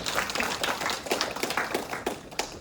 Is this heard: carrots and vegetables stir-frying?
no